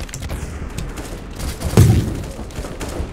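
A sniper rifle fires once in a Roblox game, a single thudding shot near the middle, set against continuous game noise and background sound.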